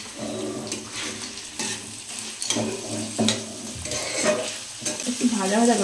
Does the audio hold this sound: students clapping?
no